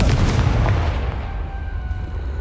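A Confringo fire spell explodes in the video game Hogwarts Legacy, a single deep booming blast at the start that rumbles and fades over the next two seconds.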